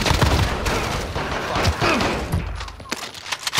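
Rapid bursts of video game gunfire from a shooter match, loud and dense with repeated shots and a brief shattering crack, filling the whole stretch with little break.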